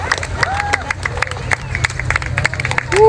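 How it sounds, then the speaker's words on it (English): Outdoor crowd at a waterfront air show in Barrie, Canada, clapping and cheering in scattered bursts, with a whistle and crowd hubbub over a steady low engine rumble. "let's give a big round of applause"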